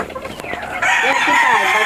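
A white Kelso rooster on a farm crows once, loud and close, a rising then drawn-out cock-a-doodle-doo following brief faint background noise.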